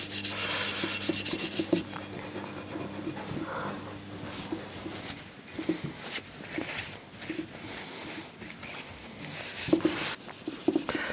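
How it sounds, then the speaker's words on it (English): Wire wool with WD-40 being rubbed over the cylinder surfaces of a Honda CD200 Benly engine, producing close, uneven rasping scrubs, louder and steadier at first and then in irregular bursts. "a bit of WD-40 and some wire wool to clean off the last, to try and get that surface, those surfaces completely flat and clean"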